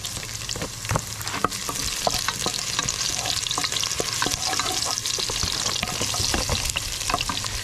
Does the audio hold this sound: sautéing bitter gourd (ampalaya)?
yes